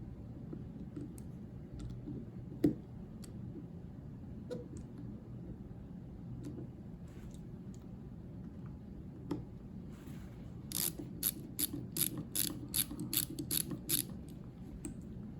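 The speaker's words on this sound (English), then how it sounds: "find out which one of these Torx bits fit it, and then we'll thread those off real quick" A Torx bit driver turns out the small optic plate screws on a Beretta APX A1 pistol, with faint clicks and a quick run of ratcheting ticks near the end, close and quiet.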